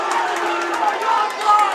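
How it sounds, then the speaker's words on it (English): A crowd at a girls' high school basketball game reacting together, a continuous murmur of voices swelling briefly into an excited rise, with a few sneaker squeaks on the court. "Crowd reacts as if something happened."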